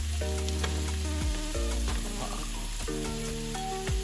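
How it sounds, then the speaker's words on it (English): Carrots tipped into a hot frying pan for a healthy stew give a steady, loud sizzle that runs the whole time, with a few soft clatters of stirring on top and no talking. "I will be adding my carrots now."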